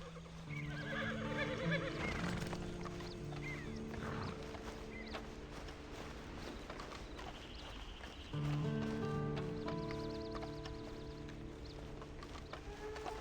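Horse neighing and hooves in Red Dead Redemption 2 Online, a loud whinny rising early, then soft clip-clop steps under ambient game music, with a second tonal burst of score and hoofbeats later on.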